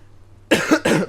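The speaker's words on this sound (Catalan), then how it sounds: "m'estic afogant amb la tos." A person coughs twice in quick succession, close and loud after a moment of quiet.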